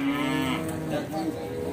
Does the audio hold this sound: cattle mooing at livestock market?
yes